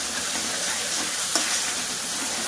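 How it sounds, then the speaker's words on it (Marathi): Spicy red masala paste for a drumstick bhaji fries in oil, making a constant close hiss of sizzling with one brief sharper crackle near the middle and no speech. "मसाला छान तळून घेत आहे"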